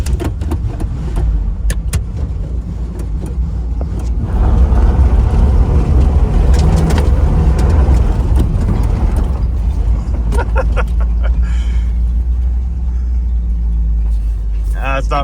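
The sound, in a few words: Pontiac Trans Am fishtailing in gravel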